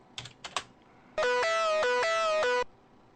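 A dry hardstyle lead synth built from a saw wave, with the external reverb and delay removed, plays a short bright stepping phrase of about a second and a half after a few soft clicks.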